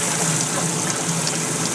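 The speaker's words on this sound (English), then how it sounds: "We have hot water at the faucet, super hot water." Super hot water from a tankless water heater, a PrecisionTemp RV 550 NSP EC installed in a cabin tiny house, gushes loud and steady from a faucet in a continuous hiss.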